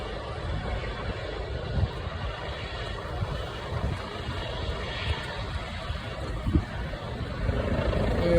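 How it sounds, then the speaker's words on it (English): A turbine-powered ambulance helicopter of about 1,000 horsepower warms up for takeoff, giving a steady, loud broadband engine and rotor roar with a low rumble that holds throughout and swells slightly near the end. "this helicopter is warming up and ready for takeoff"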